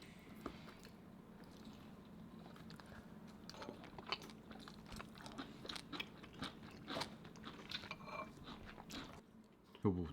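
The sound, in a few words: eating spicy braised pork ribs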